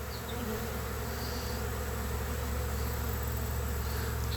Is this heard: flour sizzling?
no